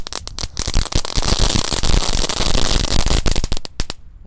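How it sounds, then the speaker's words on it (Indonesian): Dinosaur egg firecrackers lit as a whole pack go off in a loud, dense run of crackles and sharp pops for several seconds, thinning to a few last bangs before stopping. "Selanjutnya kita akan menyalakan telur Dindo pretek."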